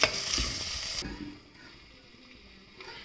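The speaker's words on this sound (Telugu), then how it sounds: "వేసి మొత్తం కలిపి కొంచెం ఫ్రై అయ్యే వరకు మూత పెట్టుకోవాలి" Vegetables with crystal salt frying in a pan for veg biryani: a loud close sizzle for about a second, then a quieter simmering hiss under a lid.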